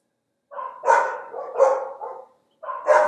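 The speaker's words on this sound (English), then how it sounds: "feeling a little uptight because of these damn dogs" Dogs bark in a few short bursts, two or three barks per burst with brief pauses between, moderately close and clear with no talk over them.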